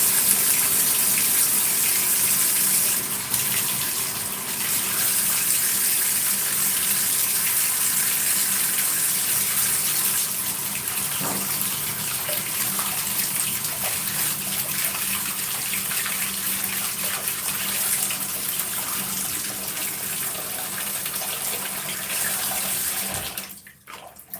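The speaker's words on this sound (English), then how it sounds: "let me put some warm water because the water got kind of cold" Warm water runs from a tap in a strong, continuous gush, close and loud, with a hollow splashing character that barely changes until it cuts off abruptly at the end.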